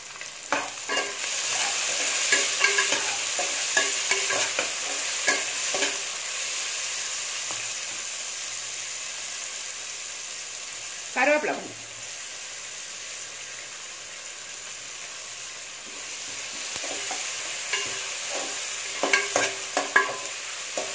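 Chopped onions with a little salt sizzle and crackle in a pan while a spoon stirs and scrapes them, close and continuous, for an Andhra-style raw jackfruit kurma; one brief louder knock midway.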